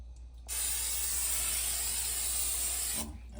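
A steady hiss of oil spraying over a whole turkey, starting abruptly and running evenly for about two and a half seconds before cutting off.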